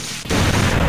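A Super Shocker attack strikes in the Digimon World video game, a loud, dense crackling electric burst that holds steady for most of a second after a brief gap, with no voices over it.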